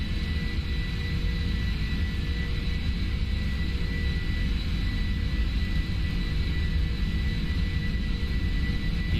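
Simulated jet engines of a PMDG 747-400 at takeoff thrust in the Prepar3D flight simulator, a dense, continuous loud roar with a steady high whine, unbroken for the whole stretch and without talk.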